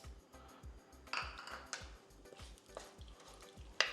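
Mustard seeds spluttering in hot sesame oil while tempering for garlic kuzhambu, a soft steady sizzle with rhythmic stirring scrapes of a spoon in the pan and a few sharper clinks.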